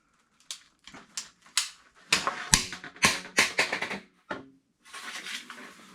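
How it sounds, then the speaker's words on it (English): A ratchet-style cutter works through PVC pipe in a series of sharp clicks and snaps, sparse at first and then quicker and louder as the blade bites, ending with a final crunch and a short rustle. "we're just simply going to cut through this. And I mean, this is a ratchet style cut"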